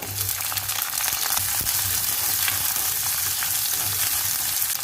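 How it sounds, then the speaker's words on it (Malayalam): Ginger and ten sliced shallots sauté in a hot pan with a steady close sizzle and frying crackle, occasional stirring scrapes, and no voices. "ഇതെല്ലാം കൂടി നന്നായി ഒന്ന് വഴറ്റിയെടുക്കാം"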